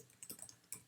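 Quick, light clicks from typing on a computer keyboard, a few sharp keystrokes close up in a quiet room with no talk.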